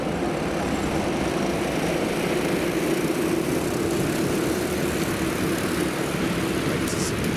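Honda Cadet karts race at Whilton Mill, their small engines merging into a continuous, loud, droning buzz that holds steady throughout with no break.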